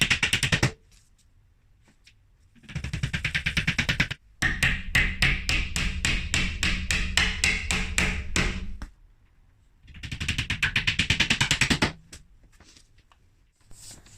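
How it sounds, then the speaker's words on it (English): Nails hammered into the backboard of an IKEA kitchen unit during assembly: bursts of rapid, sharp, evenly spaced taps, loud and close, separated by short pauses. "Now we're going to hammer the nails in to hold the backboard in securely."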